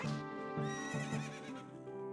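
A horse whinnies loudly in a long, wavering call in Ocarina of Time 3D, with a clip-clop rhythm faintly underneath.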